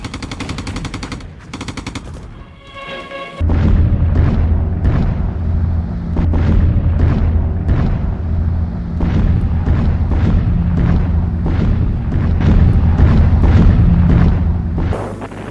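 Heavy artillery and machine-gun fire from the Spanish Civil War assault on Bilbao, archival battle audio. A brief burst of rattling fire opens, then continuous loud booms and rapid shots pound on for many seconds.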